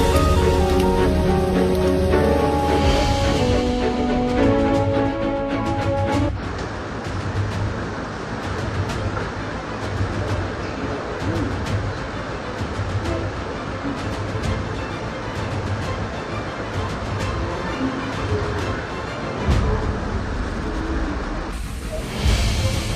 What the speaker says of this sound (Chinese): 下大雨了。